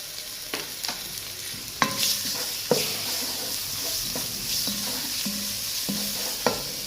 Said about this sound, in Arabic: وغادي ندير هاد الدجاج وهاد الخيزو والفلفله حتى هما باش نشحروهم